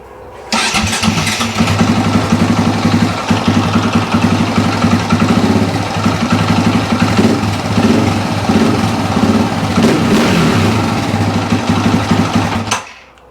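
A KTM motorcycle engine, its carburettor just adjusted, starts and runs steadily at a close idle, a loud continuous throb for about twelve seconds before cutting off abruptly.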